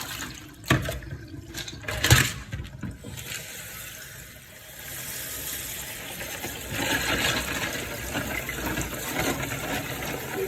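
Water rushes and trickles while an item gets a rinse in warm water during cleaning, with a splashy burst near the start, then a steady flowing wash that grows toward the end, and no voices.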